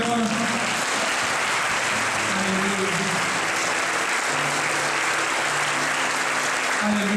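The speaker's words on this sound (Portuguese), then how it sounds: "Você pode aplaudir o nome do Senhor." A church congregation applauds at a Christmas cantata, a steady dense wash of clapping filling the whole stretch, with faint sustained tones and murmuring beneath.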